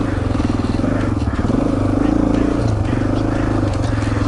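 A 2004 Honda XR400R dirt bike engine drones loudly while being ridden, a steady close rumble with a slight rise in revs midway and wind buffeting, with no talk.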